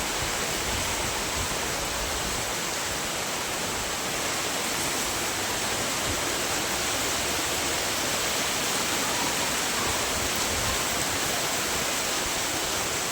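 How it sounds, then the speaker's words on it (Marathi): Heavy rain pouring onto a tree and drumming like rain on a sheet roof, a loud, uniform roaring hiss that holds steady throughout with no voices. "पाऊस आल्याचं पत्रावर कसं वाजतं तसं वाजायला तुम्हाला ऐकलं का?"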